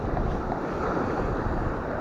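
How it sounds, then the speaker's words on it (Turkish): Storm wind and rough waves at sea, heard from a fishing boat off Mersin, form a loud, unbroken roar of wind buffeting the microphone over crashing surf. "Arkadaşlar fırtına çıktı. Bayağı dalgadı."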